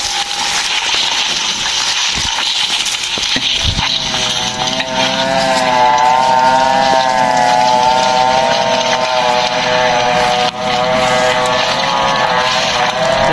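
A wood-cutting machine engine drones loudly and continuously nearby, its steady mechanical whine wavering slightly in pitch, with a couple of brief knocks early on.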